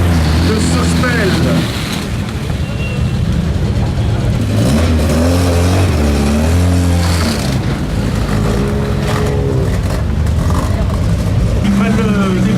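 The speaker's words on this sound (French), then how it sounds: "Ils prennent le départ à l'instant sur la Volkswagen 1303S" Volkswagen 1303S rally car leaving the start at the historic Monte-Carlo rally, its engine revving up through several gear changes, loud and near, under a commentator's continuous talk.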